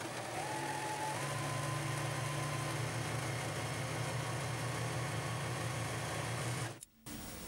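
A sewing machine stitching the bust cup of a ruffled dress runs as a steady, fairly faint motor hum with a constant stitching drone that ends abruptly near the close, and no one speaks over it.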